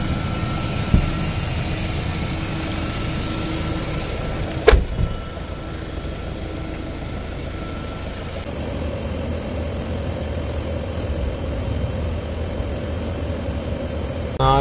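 Mahindra Thar sits running with its air conditioning on while disinfectant spray is released inside, giving a steady mechanical hum. A sharp click comes midway, and the tone shifts partway through.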